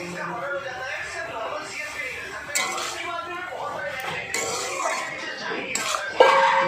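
Potato greens get stirred in a pan with salt and turmeric, with close scraping and clinks of the utensil against the pan while a person talks over it.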